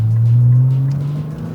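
A 2009 Nissan GT-R engine fitted with a modified, quieter exhaust, idling close by as a low, steady rumble that fades slightly toward the end.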